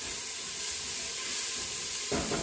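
Chopped red onion and garlic sizzling in olive oil in a pan, a steady bright hiss that swells louder near the end as the food is stirred.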